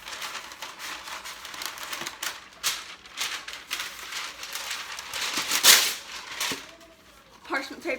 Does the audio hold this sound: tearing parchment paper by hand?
yes